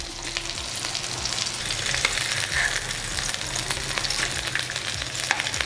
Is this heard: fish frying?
yes